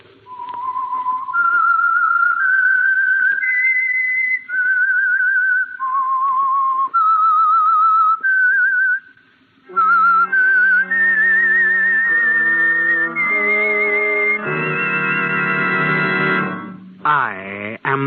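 A lone whistler performs the theme of The Whistler radio show, a clear, loud melody of held and wavering notes. Phrases are separated by short gaps, and it ends in a sliding downward glide.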